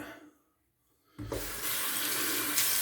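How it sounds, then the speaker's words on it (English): Tap water runs steadily as a razor handle is rinsed beneath it, starting abruptly after a brief silence and continuing as a close, constant splashing hiss. "I'm going to rinse off the handle"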